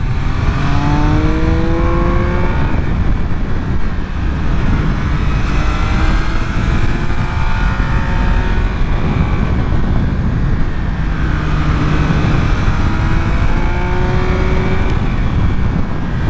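A 2023 Triumph Speed Triple 1200 RS motorcycle accelerating hard past 6000 rpm, its loud engine rising in pitch through repeated upshifts, with the note climbing, dropping at each gear change and climbing again, close and continuous throughout.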